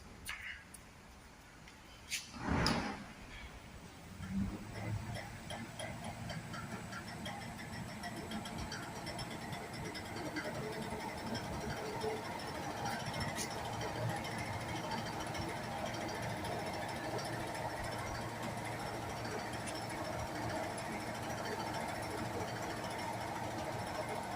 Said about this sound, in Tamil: இப்போ 900 ஆர்பிஎம்மில் மிஷின் ஓட போகுது.